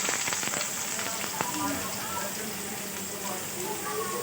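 Chopped onion dropped into hot oil with cumin seeds gives a steady, close crackling sizzle that runs throughout, with a voice briefly heard over it early on.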